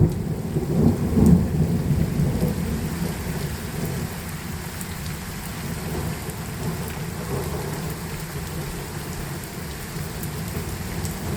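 A spring weekend rainstorm outdoors: steady, loud, close rainfall hissing and pattering on surfaces, with deep rolling thunder rumbling underneath and easing slightly after the first few seconds.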